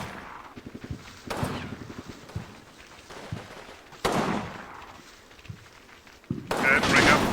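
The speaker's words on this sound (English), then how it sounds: "Okay, there's more machine guns firing." Machine guns firing in the WWII strategy game Combat Mission: Rome to Victory, with scattered rapid bursts and sharp blasts between quieter gaps and a dense, loud barrage at the end, with no voices.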